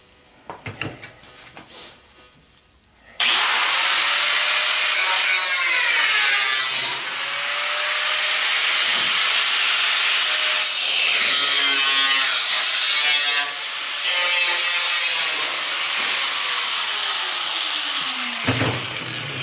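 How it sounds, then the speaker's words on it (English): Angle grinder cutting through the metal of an old clothes dryer being scrapped for copper and aluminum, a few clanks and then a loud, sustained whining grind with shifting pitch as the disc bites the sheet metal. "now I'll make a cut here and here with the grinder again"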